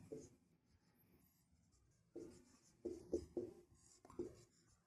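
Pen writing out a math solution on paper, faint scratchy strokes in short bursts with small pauses between them, close-up and quiet with nothing else heard.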